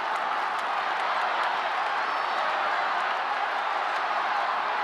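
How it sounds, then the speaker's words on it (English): A vocal football crowd roars at a 1997 AFL match between Port and Adelaide, a steady, dense wash of distant cheering and noise with no breaks. "And this crowd certainly has become vocal"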